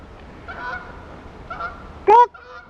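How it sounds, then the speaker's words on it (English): Geese honking near a dam, a few distant nasal calls followed by one loud, close, sharp honk, then a fainter call, over quiet outdoor background. "Okay, here's some geese."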